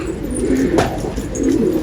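A male pigeon coos close by in low, throaty rolling phrases, two bouts of cooing over a soft steady background.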